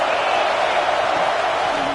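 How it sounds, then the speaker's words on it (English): Stadium crowd at a football game, a dense continuous roar of many voices without distinct cheers or peaks. "This crowd trying to make life miserable for this offense."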